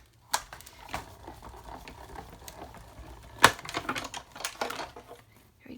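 A die-cutting and embossing machine cranks a card through platforms 1 and 4 with an embossing folder, producing a run of close, crisp mechanical clicks and ratcheting ticks with a few sharper snaps, heard alone.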